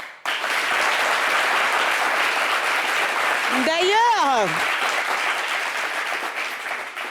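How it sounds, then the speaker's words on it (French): A studio audience at a television talk show gives sustained, dense applause, with a voice briefly speaking over it midway. "Hormis nos applaudissements."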